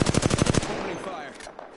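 Apex Legends gunfire comes as a rapid automatic burst of about eight close, punchy shots in under a second, followed by fading echoes and game ambience.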